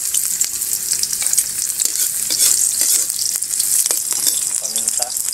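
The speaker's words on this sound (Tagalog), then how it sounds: "Golden brown na sibuyas." Onions fry to golden brown in a pan, a loud, dense, continuous sizzle close up with scattered crackles and a few light stirring scrapes, no voice over it.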